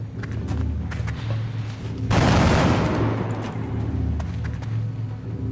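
A burst of gunfire in XCOM: Enemy Within with the Long War mod, a dense roaring volley of about a second over a steady low game hum, with faint clicks before and after.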